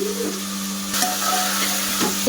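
Ginger garlic paste sizzles in ghee in a pan while a soybean pulao is cooked, with a steady hiss and frying crackle up close. Stirring scrapes and clinks come and go above a constant low hum.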